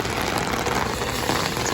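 Steady rain falls in the open beside a Thai monkey figure during a thunderstorm, a dense, even hiss lasting the whole moment with a low rumble beneath and no voices.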